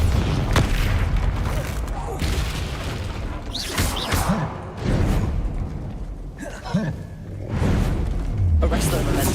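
Bombarda spell blasts in the video game Hogwarts Legacy: several heavy booms with whooshing bursts, loud and close, overlapping a voice calling out and layered game sound effects.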